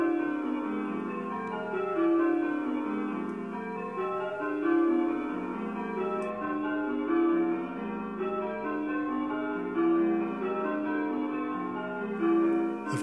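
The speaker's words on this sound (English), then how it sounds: "Now let's go for something on 10 bells, and I think we need to go a little bit quicker." Change ringing on ten church bells playing Bob Royal at a quick pace: a continuous cascade of clear, overlapping bell tones in steady rounds, moderately loud and without voices.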